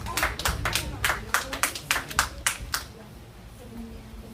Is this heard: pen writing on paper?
no